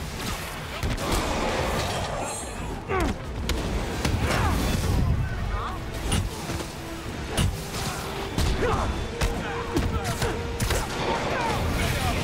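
Bursts of video game gunfire with sharp cracks and heavy impacts crash over a noisy, chaotic background. A voice talks briefly among the shots.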